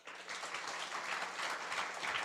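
A congregation claps together during a Mandarin-language Sunday church service, sustained, even applause filling the room with no speech over it.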